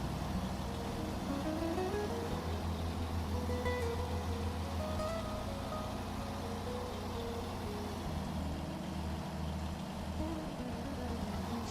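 A truck engine drones steadily in the off-road driving game SnowRunner on Brutal Mode in the Glades map, a low, continuous rumble at moderate level with no talking.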